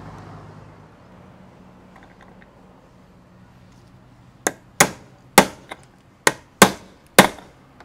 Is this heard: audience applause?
no